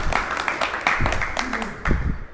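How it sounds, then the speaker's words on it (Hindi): An audience applauds at a Ramlila committee event honoring its founder, sharp irregular claps swelling and thinning over a couple of seconds, close and moderately loud with voices murmuring underneath. "तो मैं चाहूँगा कि एक बार इनके लिए तालियां बजा दें।"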